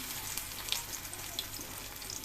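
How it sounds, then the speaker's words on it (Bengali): Water lily flower fritters fry in hot oil with a soft, even sizzle and scattered faint pops and crackles. The sound is quiet, close and steady, with no voices. "চুলায় তেল বসিয়ে দিয়েছি, এখন বড়াগুলো দিয়ে দিব।"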